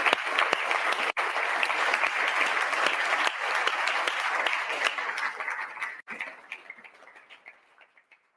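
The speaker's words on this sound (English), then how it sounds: "A big applause for our panelists." An audience gives a sustained round of applause for the panel at an economic forum on European inflation, loud steady clapping that tapers off and fades away at the end.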